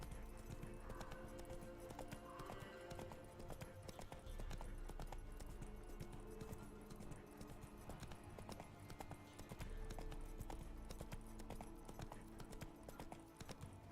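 Horse hooves galloping in The Witcher 3 video game, a steady rapid clip-clop that runs continuously and close throughout, with game ambience underneath.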